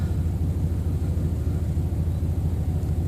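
A 2009 Jeep SRT8 fitted with a turbo kit idles at close range, putting out a steady low rumble with no changes in pitch and no voices.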